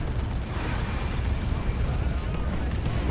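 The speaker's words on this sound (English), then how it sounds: "And now a rocket run." Explosions from a rocket run in Dawn of War 2, with Imperial Guard fighting Orks: a dense, continuous rumble of blasts and bursts throughout.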